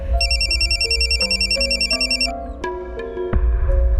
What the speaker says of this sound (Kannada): ನಮ್ಮ ಮಂಜ ಫೋನ್ ಮಾಡ್ತಾವನೆ.